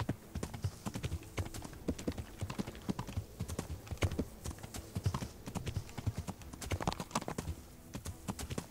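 Horse hooves clip-clop in a steady, quick rhythm in the video game Kingdom Come: Deliverance, moderately close and fairly quiet, with no speech over them.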